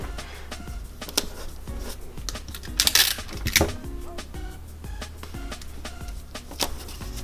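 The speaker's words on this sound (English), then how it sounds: "And you tape it like so." Tape applied to printed PDF sewing pattern pages: scattered crinkles, light taps and a couple of louder rustling strips of tape being pulled and pressed down, close up with faint background noise.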